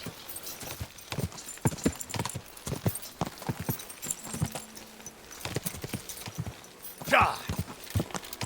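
Horse hooves clip-clop at a steady trot in the video game Kingdom Come Deliverance 2, a rhythmic series of sharp close hoofbeats with someone talking over them and a brief snort or whinny near the end.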